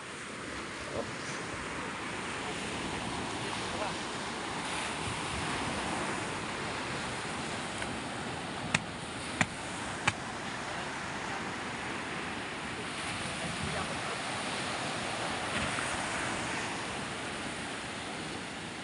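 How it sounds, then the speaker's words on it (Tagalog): Small sea waves wash steadily and continuously at sea, heard as a broad, even rush with wind buffeting the microphone and a few sharp clicks near the middle. "Malilit naman ng ang alon. Hindi naman malalaki."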